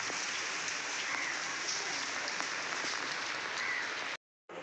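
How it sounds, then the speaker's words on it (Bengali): Dense, steady hiss of heavy rain falling nonstop, cutting out abruptly to silence just before the end. "ভালোই জোরে বৃষ্টি পড়ছে।"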